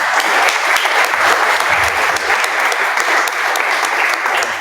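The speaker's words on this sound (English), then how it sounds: "It's a round of applause for you." An audience at a data science bootcamp demo day in Lisbon claps in a sustained, even round of applause, dense and fairly loud with individual sharp claps standing out, and no one speaking over it.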